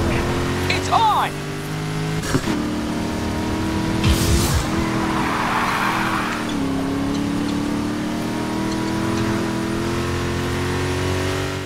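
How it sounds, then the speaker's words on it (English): Race car engine revving and tires skidding in the Need for Speed Heat video game, with a crash into a police car; loud continuous engine drone with sharp impact bursts, under game music and voices talking. "my car's taking a bit of a whack from crashing into that cop car"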